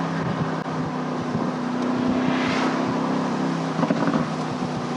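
A Mercedes-AMG GT Roadster drives along in fair weather, its engine holding a low, steady droning hum under wind and road noise, with a slight swell in the middle and a brief rise near the end.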